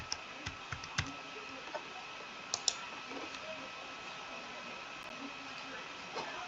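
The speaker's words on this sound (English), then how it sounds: "And now I'm going to type in the correct password." Keys tapped on a computer keyboard while entering a login password, a handful of quiet, close clicks spread irregularly over a few seconds against faint room hum.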